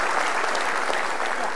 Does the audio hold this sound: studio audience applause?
yes